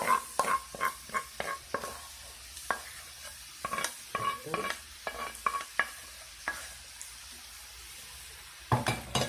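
Tomatoes frying in oil in a pan for a spinach-and-tomato dish, stirred with a utensil that clinks and scrapes in quick bursts over a soft background sizzle, close and moderately quiet.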